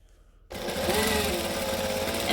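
A sewing machine abruptly starts and runs steadily, close and loud, with a fast whirring stitch rhythm as it sews the hem of a shirt.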